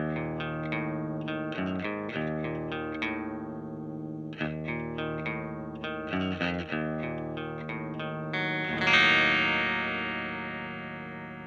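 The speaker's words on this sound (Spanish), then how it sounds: "este es mi sonido limpio en la cápsula del puente" Clean electric guitar on the bridge pickup through a Marshall DSL-20 amplifier, a run of bright picked single notes and short phrases ending on a ringing strummed chord that decays, played alone.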